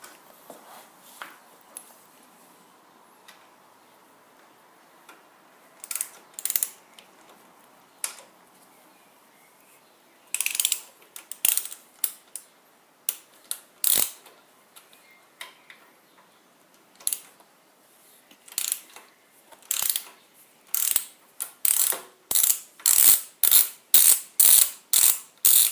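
Bolts on a motorcycle front wheel being loosened with a ratchet, quick clicking bursts that start sparse and turn into a dense, regular run of close, crisp ratcheting toward the end.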